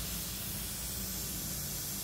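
A compressor-driven sprayer hisses steadily while misting pesticide over sword orchids, a loud, continuous, even spray with no pauses.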